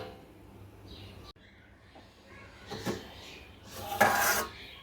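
Mangoes are stirred in a metal pot, giving soft scraping and a few sharp clinks, then the lid goes on with two brief clattering bursts near the end, with no talking.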